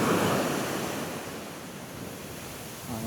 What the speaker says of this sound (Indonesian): Jalan-jalan di atas pasir, menikmati ombak biru seperti ini.